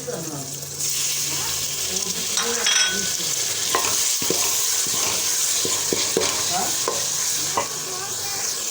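Tomatoes go into a pan of frying ginger and green chili paste, with a loud, busy sizzle and scraping stirs that start after a brief quieter moment and keep going with scattered clinks.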